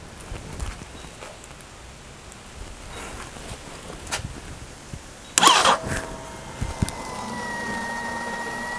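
A 212cc Predator Ghost-powered mini bike's electric fuel pump switches on with a brief clatter, then settles into a steady, thin whine that holds close and moderately loud over faint background noise.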